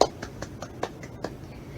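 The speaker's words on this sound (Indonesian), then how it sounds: "Beri tepuk tangan pada kelompok terakhir yang telah melakukan presentasi." A classroom gives a brief round of applause for the last group to present, a thin, spaced patter of a few clapping hands heard close and fairly faint.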